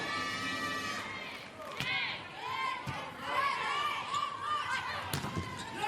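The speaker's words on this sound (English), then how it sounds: "Subbench cheering loudly." At a women's volleyball match, the substitute bench cheers and shouts in a lively burst amid arena crowd noise, ball slaps and sneaker squeaks, with commentary running over it.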